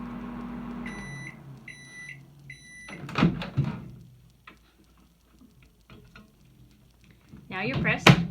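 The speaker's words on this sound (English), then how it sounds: "put it in your microwave for a short burst," A microwave oven hums briefly and then gives a few evenly spaced electronic beeps, followed by scattered handling clatter and bursts of voices.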